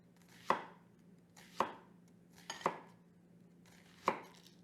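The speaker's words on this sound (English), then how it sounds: "give a nice chop with some red onion" A knife chops red onion on a cutting board, four distinct, separate thuds spaced about a second apart, close and fairly quiet with no talk.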